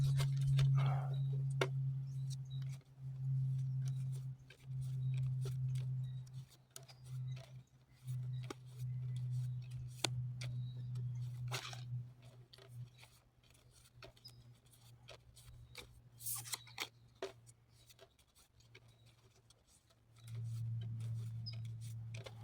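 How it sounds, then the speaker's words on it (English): Two decks of playing cards are riffle-shuffled together, producing scattered faint crackles and flutters over a low electrical hum, in quiet bursts spread across the stretch. "that should be a better shuffle now that I got 2 decks intertwining a little more"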